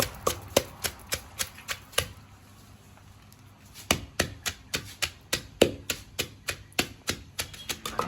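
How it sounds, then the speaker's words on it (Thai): Chilies and fingerroot are pounded into curry paste in a mortar with steady rhythmic thuds, close and sharp, in two runs separated by a short pause. "หลังจากตำพวกพริกพวกอะไร กระชาย แหลกเลยพี่น้อง"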